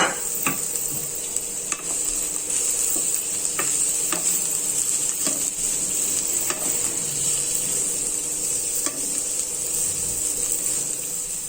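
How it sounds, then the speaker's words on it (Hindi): Capsicum and green chillies sautéing in a pan for a spicy potato nuggets recipe, a constant loud hiss of sizzling oil with regular sharp scraping clicks from stirring, close up and without talk. "अब हम इसमें ऐड करेंगे शिमला मिर्च, और जो हरी मिर्च हमने कट की थी वो भी।"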